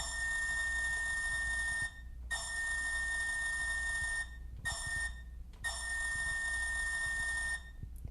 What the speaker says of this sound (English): There's the peanut air whistle.